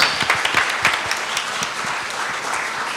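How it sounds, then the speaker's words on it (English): Audience applause at a 2024 Mayor of London hustings event, a dense burst of clapping from an in-person crowd that stays steady and fairly loud throughout. "Big round of applause."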